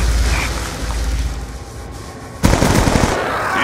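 Gunfire in Call of Duty: Black Ops 2 comes as a low rumble that suddenly gives way to a loud, close burst of rapid shots near the end.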